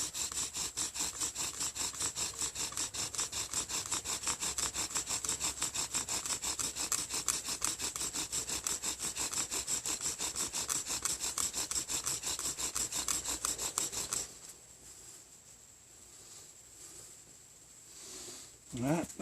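Wooden bow drill spindle spun back and forth against a wooden fireboard, a steady rapid rasping stroke rhythm for about fourteen seconds, then stopping to near quiet with a brief rustle at the end.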